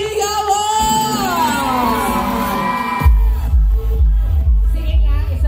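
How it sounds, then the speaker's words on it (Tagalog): At an outdoor summer concert, a crowd shouts and whoops over loud, continuous music, and heavy bass thumps come in midway through. "pwede ba ulit kami makaingin ng isang malakas na palakpakan na may kasama hiyawan"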